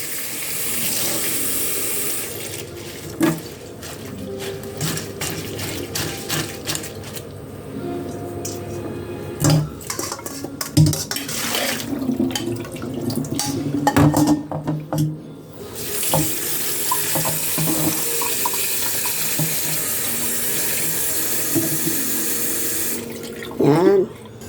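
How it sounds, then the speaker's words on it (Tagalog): Leaves for a Chinese-style crocodile soup rinsed by hand under a running kitchen tap, a steady splashing stream into a sink with intermittent handling clatter and brief stops, recorded close. "Hugasan din natin tong dahon."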